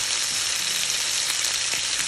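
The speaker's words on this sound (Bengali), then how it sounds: "আর ক্যাপসিকামটা আমি ভেজে নেব" Chopped capsicum and onion fry in a pan with a steady, bright, dense sizzle that holds evenly throughout, close and fairly loud with no talking.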